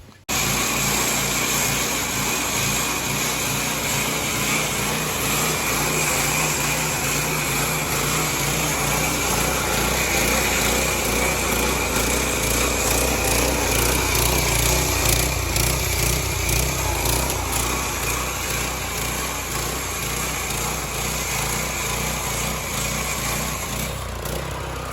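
Husqvarna soft cut saw slicing a fresh concrete floor in a 24x36 pole barn, its small engine droning loud and continuous for the whole stretch, with the pitch wavering slightly as the blade works.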